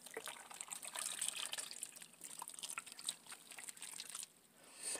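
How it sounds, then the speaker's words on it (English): Four cups of water are poured into sugar, cinnamon and allspice for apple pie filling, making a soft, continuous splashing and trickling at close range with faint crackly bits, easing off near the end. "I have 4 cups of water over here, and I'm going to dump that in as well."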